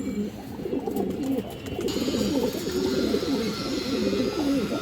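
Sabji female pigeons coo continuously in overlapping, throaty calls close by, with no talking.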